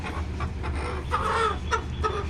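A hen of about three kilograms clucks just before being slaughtered, giving a short series of close, agitated clucks and croaky calls over a low background rumble.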